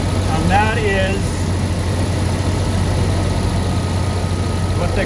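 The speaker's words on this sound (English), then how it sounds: "it's beautifully smooth. I mean, it really is a great engine" A 1986 Jaguar XJ-SC idles smoothly with a steady, even low hum that runs the whole time under a brief voice near the start.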